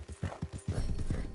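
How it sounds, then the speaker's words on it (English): Horse hooves clip-clop in a video game, a quick uneven run of soft thudding footfalls that pick up pace and grow busier toward the end. "I don't like this horse."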